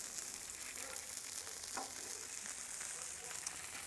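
Bacon strips sizzle on a Blackstone griddle with a steady, crackling hiss, close and moderately loud, with no talking.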